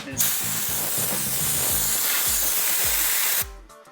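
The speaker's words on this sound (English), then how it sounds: "then I go over it with the air gun" Compressed air gun blasting through the radiators of a 1999 Porsche Boxster, a loud, close, continuous hiss lasting about three seconds before cutting off abruptly, with a faint voice underneath.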